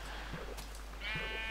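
A Minecraft sheep bleats twice in a game world, two short nasal calls about a second apart, fairly close and clear over a faint steady background hum.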